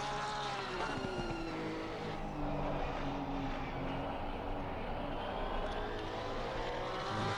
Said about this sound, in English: Listen to that Porsche.